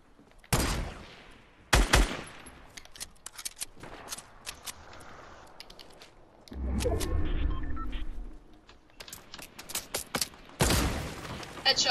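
Video game gunfire, with sharp loud shots including sniper rounds, in irregular bursts separated by quieter stretches of movement and rustling, with one longer rumbling burst midway.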